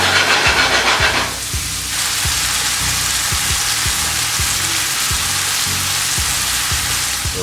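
Ginger and garlic sizzle steadily as they sauté in a hot pan, a loud continuous frying hiss with faint clinks of stirring and a brief louder burst at the start.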